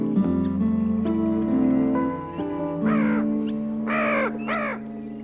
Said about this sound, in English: a red-winged blackbird attacks a passing crow